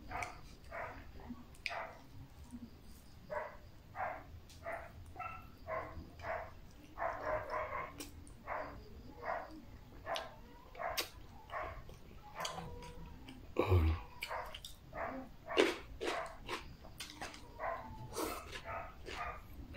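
Dogs in a rural provincial area bark repeatedly in short yaps throughout, moderately distant, with faint voices at times and small clinks nearby.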